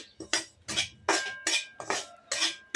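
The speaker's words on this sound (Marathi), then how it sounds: "हे बघा हे असा रवा हलवून घ्यायचा चांगल्या प्रकारे." A spoon scrapes and clinks against a metal pan as semolina is stirred while roasting over low heat for upma, in a series of about seven distinct close strokes at a steady rhythm with no talking.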